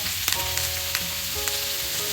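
Steak sizzling in a pan with butter, garlic and thyme after the heat is cut, a steady close fry with a few sharp pops and faint tonal hum underneath.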